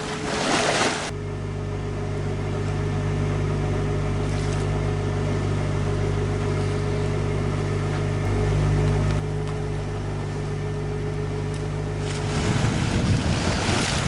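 A single-handed sailboat motors through the night off Indonesia, its engine a steady low hum under loud gusting wind buffeting the microphone, with waves sloshing and stronger wind bursts at the start and end.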